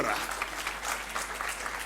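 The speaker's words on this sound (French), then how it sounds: "on va applaudir pour le représentant du lycée Ibn Mahadir" An audience at a high school speaking contest applauds the school representative, a brief, steady patter of clapping at moderate volume with voices underneath.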